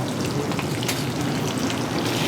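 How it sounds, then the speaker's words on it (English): Garlic and broccoli rabe saute in oil in a restaurant kitchen, giving a steady, close, rain-like sizzle and crackle that holds an even level throughout, with no one talking. "I put some garlic here. Just saute it nice."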